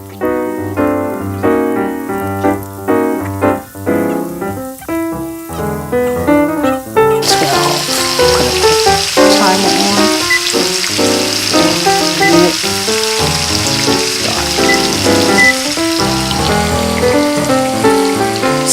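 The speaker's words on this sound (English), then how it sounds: "there they go, nice sizzle right in the oil." Scallops hit hot frying oil in a stir fry and burst into a loud, dense sizzling hiss partway through. The sizzle follows a stretch of tonal, music-like sound and continues steadily to the end.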